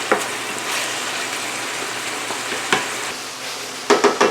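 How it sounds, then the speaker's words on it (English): Ground meat, peppers and onions sauté in a pan for a sloppy joe mix, a steady close sizzle with scraping stir strokes and a few quick clatters of the utensil toward the end. "finish browning up our meat. While we're sauteing down our peppers and onions."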